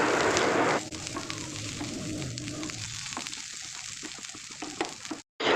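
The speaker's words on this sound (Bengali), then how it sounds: "নিম পাতাটাকে পুরো মচমচে হওয়া পর্যন্ত ভাজা করে নেব" Neem leaves frying in oil in a pan over medium-low gas flame, a dense sizzle loudest at first then settling into a softer crackle with light stirring, ending with a brief cutout.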